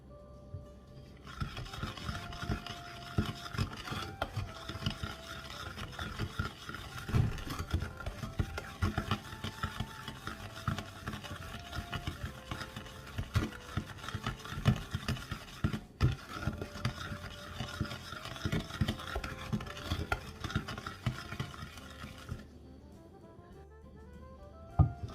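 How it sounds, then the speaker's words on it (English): Butter and sugar are beaten together for cookie dough by a whirring electric mixer, running steadily for about twenty seconds with a faint scraping and rattling texture before cutting off near the end. "So we're going to cream the butter and the sugar together."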